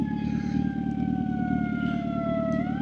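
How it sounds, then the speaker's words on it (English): An ambulance siren wails in a steady tone and dips in pitch as it passes, heard from a moving Suzuki GSX-R 750 motorcycle with a low engine rumble and wind noise underneath. "Ambulance."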